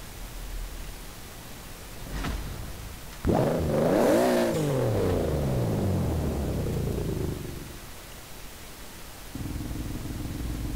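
The Hot Wheels 2JetZ in Forza Horizon 4 fires up with a sudden loud roar, its engine sweeping up and down in pitch through several revs before settling to a steady hum, with a faint low drone rising near the end.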